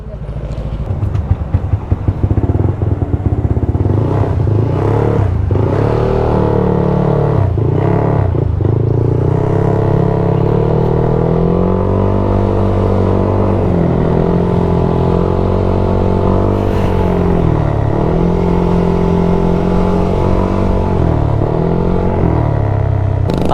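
A modified motorcycle with its 183 basic engine bored to 195cc idles with a lumpy rumble and revs repeatedly, loud and close, pitch rising and falling with each blip, with brief talk at the start.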